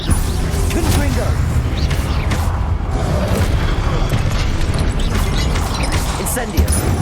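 Confringo explosive spell cast in Hogwarts Legacy on PC, a dense booming blast with crashing, rumbling debris filling the whole stretch, loud and continuous amid game effects, with a voice calling out the spell.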